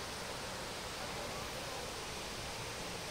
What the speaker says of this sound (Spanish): Pero miren. Ahí está la cascada.